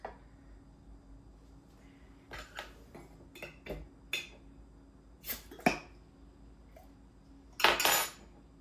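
A spoon clinks and scrapes around a pot while tomato paste is stirred in, scattered sharp metallic knocks with quiet gaps between, ending in a louder clatter.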